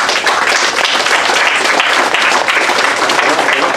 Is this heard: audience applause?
yes